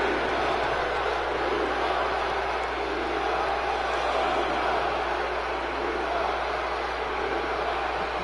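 Wrestling crowd at an MVWF Ground Zero match jeering a struggling wrestler, a steady dense roar of many voices filling the arena throughout without pause.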